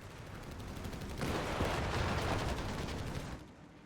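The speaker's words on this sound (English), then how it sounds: "We got a bombard coming in. Round coming in." A bombard artillery round lands in Company of Heroes 3: a rising rush followed by a heavy rumbling blast and crackling gunfire that swells loud for about two seconds, then fades back into the battlefield din.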